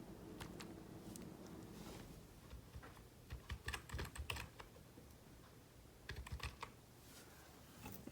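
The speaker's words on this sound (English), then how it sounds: "So now I'm gonna try to type in something." Keys clatter on an NPET OK 10 wired keyboard in quick uneven bursts, close and fairly quiet, with a pause in the middle before another flurry of typing; a low hum runs underneath throughout.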